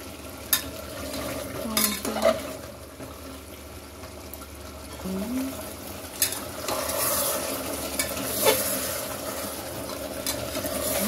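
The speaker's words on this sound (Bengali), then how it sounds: "এরপরে আমি কিছু কাঁচা লঙ্কা দিয়ে দেবো। গোটা কাঁচা লঙ্কা," Whole green chillies fry in oil alongside meat in a pan, a low sizzle under repeated scraping and clinking stirs of a spatula, close and intermittent.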